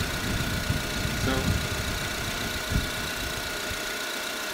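A car engine idles steadily with a faint electrical whine while the alternator charges the battery; an even, continuous hum runs throughout with a couple of small knocks.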